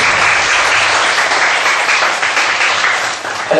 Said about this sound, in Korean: 또 새로 오신 여러분 환영한 박수 하시겠습니다